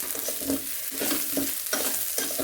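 Onions sizzle in a hot pan with salt and chili powder as a spatula scrapes and stirs them in repeated strokes, close and steady, without any talking.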